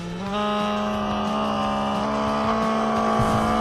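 A motorcycle engine revving sound effect plays on a radio show: a loud, sustained, buzzing engine tone kicks in abruptly and holds at a high rev with small pitch wavers, heard alone without talk.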